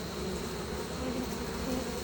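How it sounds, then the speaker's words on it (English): Honeybees buzzing at a hive just after a mite treatment, a steady dense drone of many wings, close and continuous with no talking. "They came out shaking themselves off, a lot of buzzing, a lot of shaking"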